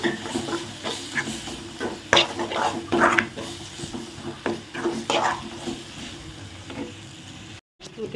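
A spoon scrapes and stirs through thick masala with tomatoes for capsicum thokku in a pan, with gentle sizzling and a few sharper clinks against the metal.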